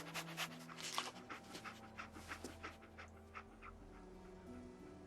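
The dog Dogmeat in the video game Fallout 4 pants in quick, rhythmic breathy huffs, close and fairly quiet, with a soft whimpering tone over a low background hum and no talking.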